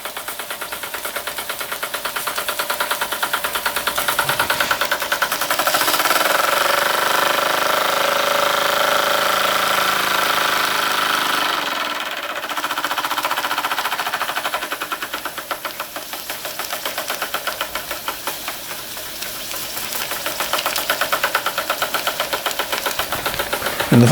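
A Microcosm M81 micro beam model steam engine runs steadily, producing a continuous rapid mechanical chuffing and clatter that dips briefly midway before resuming, close and alone with no talk.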